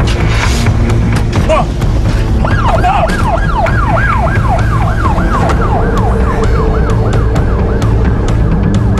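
A police car siren wails loud and close, its rising-and-falling cycle repeating steadily over engine and traffic rumble, starting after a burst of noisy commotion.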